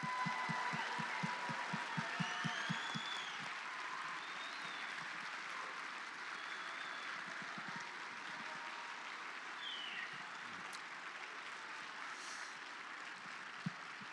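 An audience at a children's elementary school musical claps and cheers in a hall, a faint, sustained wash of applause that opens with a few distinct rhythmic claps and then settles into an even, distant patter.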